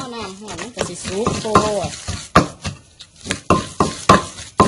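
Fish laab being stirred and pounded in a mortar. A voice speaks briefly at the start, then come close, irregular thuds and knocks of the pestle.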